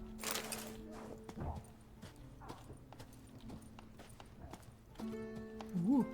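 Horse hooves clip-clop at a walk in The Witcher 3 video game, soft irregular steps under a low game ambience, with a brief whinny and a voice speaking near the end.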